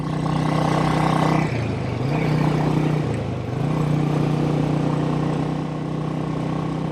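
A 1959 Indian Fire Arrow motorcycle engine drones steadily while riding in high gear, a loud, continuous mid-pitched hum that dips briefly around a gear or throttle change and then holds on.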